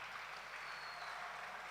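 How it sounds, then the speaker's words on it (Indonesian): Faint, distant applause from a church congregation at an HKBP youth Batak gondang festival in Bekasi, a soft, even wash of many hands clapping together without distinct individual claps. "Mari kita tepuk tangan untuk kita semua akan hal itu"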